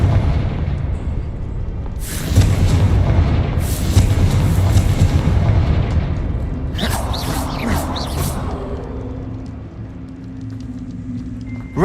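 Blasting-spell explosions in the Hogwarts Legacy open-world game: loud booming bursts with rumbling low end, one after another over a steady background of game sound, with a crackling burst near the end.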